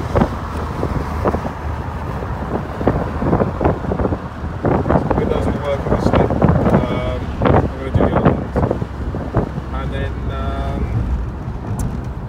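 Wind and road noise roar steadily through the open windows of a moving Saab car, a loud continuous buffeting under someone talking throughout.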